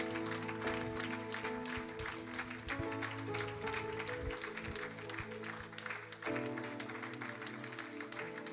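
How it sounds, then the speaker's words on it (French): A church audience welcomes a visiting preacher with sustained, dense applause and cheering that fills the whole stretch at a steady loudness, over a faint background of music. "Et sous vos acclamations, aidez-moi à recevoir l'homme de Dieu"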